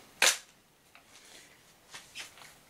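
Shots from an Umarex HDS68 air pistol fired at a can and a piece of floor leveling compound, one sharp crack early on, then a few fainter snaps and impacts at close range, with no talking.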